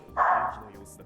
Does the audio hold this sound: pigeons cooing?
no